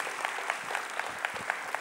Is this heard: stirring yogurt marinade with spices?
no